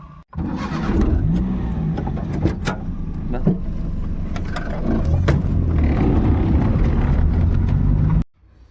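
A vehicle arrives in a village, its engine droning loudly and steadily close by with shifting revs for several seconds before cutting off abruptly.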